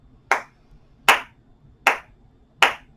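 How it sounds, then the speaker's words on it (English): Four sharp, evenly spaced hand claps about three-quarters of a second apart mark a slow breathing rhythm during gentle chair yoga, each one crisp and close against a quiet room. "I'll do the clapping"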